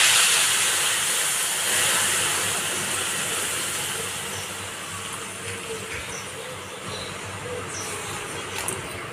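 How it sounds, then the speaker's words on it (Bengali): Hot water hits cooking ghugni chickpeas in the pan, giving a loud, close, sizzling hiss of steam that fades slowly over several seconds, with no talking. "এবার গরম জল দিয়ে দেবো।"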